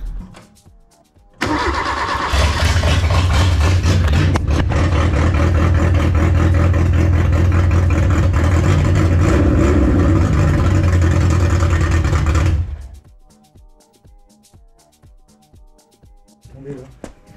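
A Seat Samba car engine, just after an ignition fix, cranks and catches, then runs loud and steady close by for about eleven seconds before cutting off, with faint clatter and a voice afterward.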